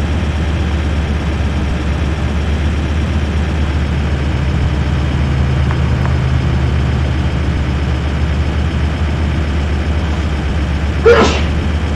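A single short sneeze near the end, sharp and fairly close, over a steady low engine drone from a truck in the video game Euro Truck Simulator 1.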